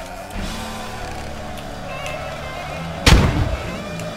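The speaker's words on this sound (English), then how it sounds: "go on the sound of the grenade exploding" A grenade explodes in the video game Squad, a single sudden deep boom near the end that follows a steady engine-like hum, loud and close.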